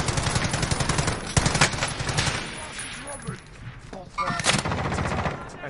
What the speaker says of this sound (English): I don't even know where you're shooting. Where are you all shooting?